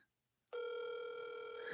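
An outgoing phone call from a live stream: after half a second of near silence, a steady electronic ringback tone starts abruptly and holds for over a second, loud and alone.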